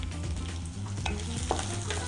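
Onions fry for chutney in a pan, giving a steady, dense close sizzle with a couple of brief scraping stirs.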